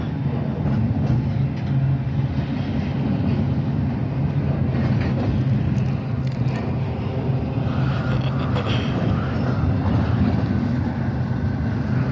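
A train rolls past on the rails in a continuous loud rumble, its wagons clattering and squealing close by with no pause.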